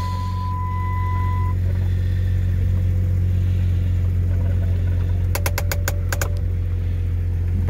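A Jeep ZJ engine idling steadily with a constant low drone, close by, while the vehicle is put in reverse to test newly replaced brakes; a brief series of metallic clicks or ticks comes near the end.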